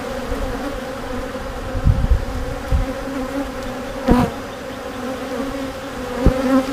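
Honeybees buzzing around an open hive in a backyard apiary, a steady, full drone close by with a few louder passes as individual bees fly near, and no voices.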